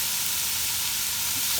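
Onion and cumin seeds frying in a pan for saag paneer, a loud, steady close-up sizzle with a bright hiss throughout.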